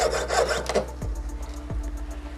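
A jeweler's saw cuts through gold wire rings, a few short, close rasping strokes on a workbench, heard alone against a faint low hum.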